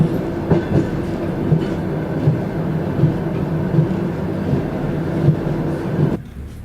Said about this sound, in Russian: Мы едем в поезде на экскурсии Донецк-Еленовка.